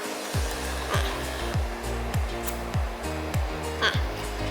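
An ACDelco battery tester prints a paper result: a steady, close mechanical whir carries a regular pulsing stroke about twice per second through the printout.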